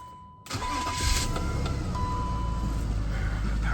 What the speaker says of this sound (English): All right, let's start this thing up. There we go.